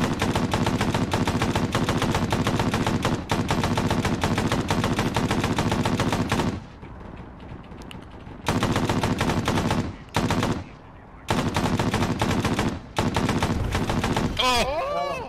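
Gunfire in Arma 3 during a Takistan convoy mission: long, loud bursts of automatic fire and rapid shots, broken by a few brief pauses, with a voice heard faintly between bursts.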